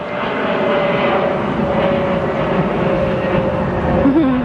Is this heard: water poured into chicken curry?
no